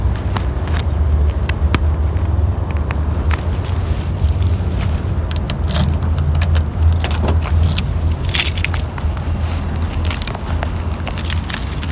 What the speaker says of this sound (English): gotta pull the key out